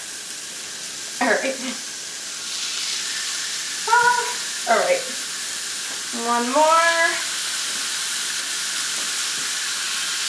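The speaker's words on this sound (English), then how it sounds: "You want to hear that sizzle." Jalapeño popper burger patties sizzle steadily on a grill pan, a constant bright hiss throughout while a person talks briefly over it.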